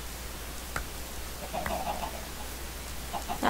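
Chickens in the video game Minecraft give soft, short clucks, faint and scattered over a steady low background hum, with no one talking.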